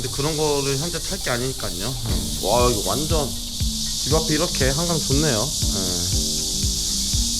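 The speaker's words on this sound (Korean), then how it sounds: "와 매미 우는 거 봐 어 시끄러 죽겠다" Cicadas by the Han River make a loud, unbroken buzzing drone that fills the background the whole time, while two people talk over it close to the mic.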